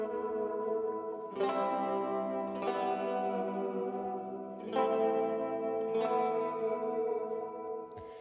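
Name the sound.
guitar track through Waves Guitar Stomp plugin, big spacey sound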